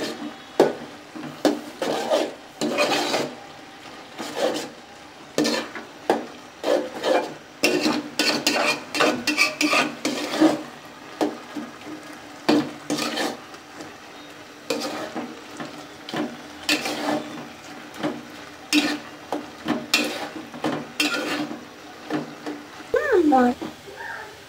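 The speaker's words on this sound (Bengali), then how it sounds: "এখন আমি সুন্দর করে মিশিয়ে নেব।" Batua greens with onion and garlic paste are stirred in a pan, with repeated scraping strokes of a spatula against the metal in an irregular rhythm, close up, trailing off at the end.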